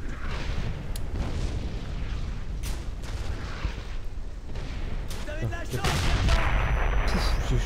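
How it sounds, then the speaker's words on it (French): Cannon fire aimed at a squad in the WWII shooter Brothers in Arms: Hell's Highway, with sharp booms and gunfire cracks scattered through a steady battle din that swells louder near the end, and a voice speaking underneath. "Il y a un canon qui nous tire dessus là"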